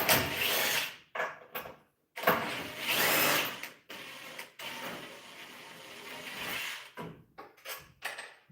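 A power drill backs bolts out of a miter saw fence in several loud bursts of whirring, broken by short pauses and clicks, up close and with no talk.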